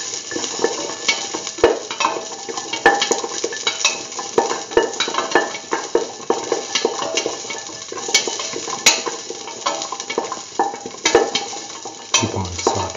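Green peas and beetroot sautéing in a pan for curried rice, a steady close sizzle with frequent scraping stirs and light clinks of a utensil against metal throughout, no talking.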